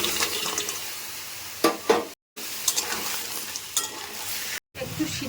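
Crab dropped into a pan with water, turmeric and mustard oil, giving a soft bubbling sizzle with a few sharper splashes and clatters, two brief silent gaps, and no talking.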